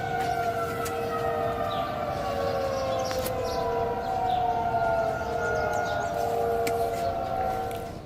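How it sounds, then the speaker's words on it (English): Long, eerie, siren-like wails sliding slowly downward in pitch, loud and sustained over a constant background rumble, with faint distant clicks. "Chris wonders if these strange noises may be the work of Siren Had"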